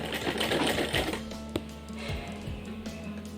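A sewing machine stitching lace trim for a festive Laddu Gopal outfit, a fast mechanical rattle of needle strokes that runs briefly and then stops, leaving a low steady motor hum and faint clicks, fairly quiet.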